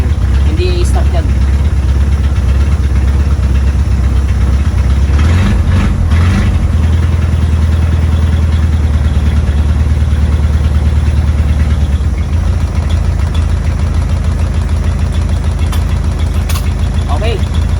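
A diesel engine running on a freshly wired 24-volt battery setup idles with a steady low rumble and light vibration, a voice speaking briefly over the start.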